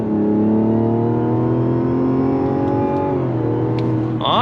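A 2024 Mazda CX-90 SUV with a turbocharged straight-six engine accelerates hard in second gear. The loud, rising engine drone runs close and steady, then drops as the car lifts off the throttle, with a brief whine at the end.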